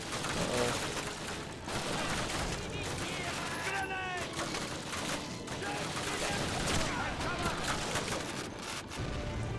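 Enemies open fire in Call of Duty, with dense, rapid gunfire and bursts of rifle and machine-gun shots rattling throughout, while a voice is heard amid the shooting.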